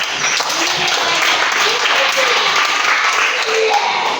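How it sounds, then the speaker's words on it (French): Applause from an audience at a school event honoring young children, steady dense clapping throughout, close and loud, with voices mixed in underneath. "applaudissez encore pour eux"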